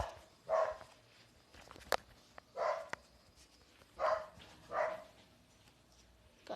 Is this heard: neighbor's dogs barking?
yes